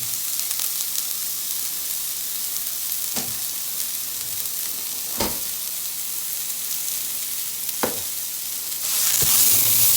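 Three pounds of ground beef browning in a pan, a constant low sizzle with a few isolated spatula knocks, the hiss swelling louder near the end.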